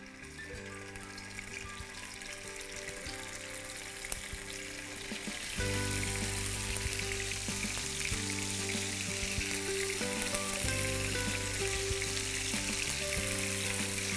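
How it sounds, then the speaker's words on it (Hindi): Paneer fries in oil in a pan, a steady close sizzle that grows louder and brighter midway as pieces hit the hot oil, with a faint background hum. "इसी तेल में पनीर को कलर देंगे"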